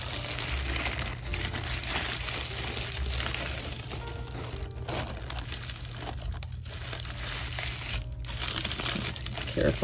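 Plastic bag crinkles and rustles close by while a resin 1:18 Kyosho Initial D Mazda RX-7 FC3S model car is unpacked, a continuous crackling texture with small irregular crunches throughout.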